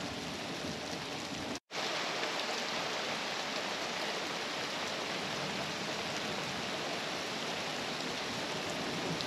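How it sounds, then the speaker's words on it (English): Steady, dense rain hisses without a break at a lake, a broad wash of close drops that cuts out for an instant before resuming. "Started to rain."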